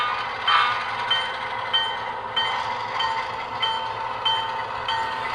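An HO scale model locomotive runs along its track on DC power, giving a steady mechanical hum with faint rhythmic clicks repeating about every half second, moderately close and without voices.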